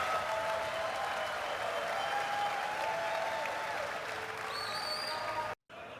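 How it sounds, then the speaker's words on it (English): A large crowd at CitizenCon applauds and cheers loudly and continuously, a dense wash of clapping with some shouts rising over it, cutting out briefly near the end before resuming. "The crowd goes fucking wild."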